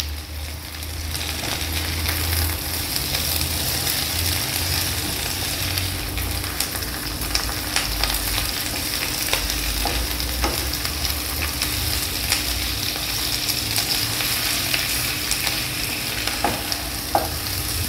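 Tomato, red chilli and spices sauté in hot oil for mutton gravy, a continuous crackling sizzle over many seconds, dotted with scattered ladle scrapes and taps and no talking.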